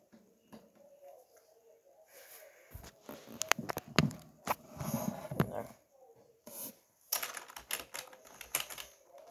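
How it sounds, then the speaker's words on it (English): Computer keyboard being typed on at a gaming setup: bursts of quick, close plastic key clicks, with brief pauses between flurries and some louder clustered strikes. "If you guys wondered what my keyboard looks like, this is what it looks like."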